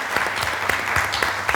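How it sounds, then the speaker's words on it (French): A studio audience on a French-language talk show claps in a brisk, dense patter, with sharper individual claps standing out. The applause is moderately loud and continuous over the short span. "Applaudissez Vlad."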